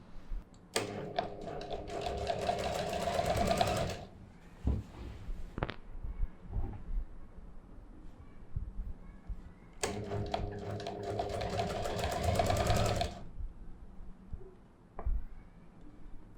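An electric sewing machine runs fast, stitching shirt seams in two sustained bursts of rapid, close mechanical whirring. Short clicks and handling taps of fabric and the machine fill the pause between the bursts, and no voice is heard.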